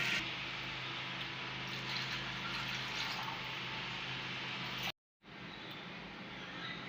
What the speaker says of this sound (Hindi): अब इसमें हम तकरीबन 4 गिलास पानी डाल देंगे